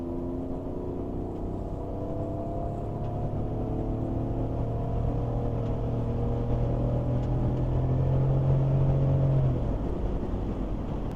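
A BMW with an M54 engine and all-wheel drive pulls under acceleration, its engine drone rising steadily in pitch over several seconds with road and cabin rumble, no talking.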